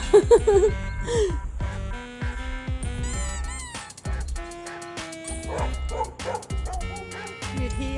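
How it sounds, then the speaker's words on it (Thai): Several dogs bark and yip in quick bursts at a dog cafe, close by, with whimpering between barks and some background chatter and laughter. "ก็จะมีเสียงหมาเห่าต้อนรับ"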